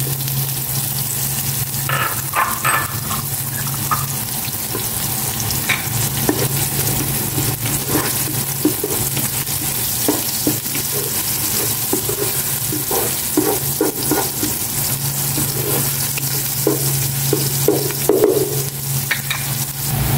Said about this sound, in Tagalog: Ilagay ko na itong pork para mag-isa na.